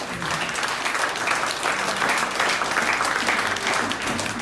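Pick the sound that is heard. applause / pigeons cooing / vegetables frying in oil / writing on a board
applause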